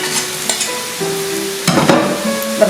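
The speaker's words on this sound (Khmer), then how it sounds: "យើងចាក់ស្លឹកត្រចៀកកណ្ដោចូលទៅដើម្បីឆាជាមួយសាច់យើង" Meat stir-fried with wood ear mushrooms in a pan, close sizzling with scraping stir strokes and a louder burst of frying partway through, no voices.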